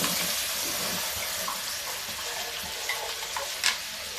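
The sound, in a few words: green pumpkin paste frying in ghee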